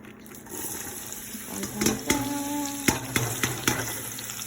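Sliced mushrooms drop into a pot of hot bacon grease and sizzle steadily and close by, with a few sharp clanks and scrapes from stirring over the frying hiss.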